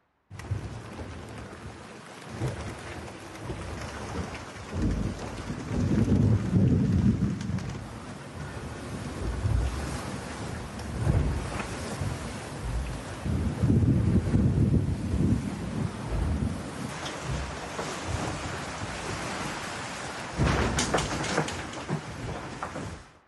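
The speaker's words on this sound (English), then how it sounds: "those furthest to the west near Cabo Frio are experiencing thundercells, squalls and gusts" A thunderstorm squall hits the Malizia racing yacht at sea off Cabo Frio, with rain, heavy wind buffeting the microphone in surging gusts, and rumbles of thunder rolling through over about twenty seconds.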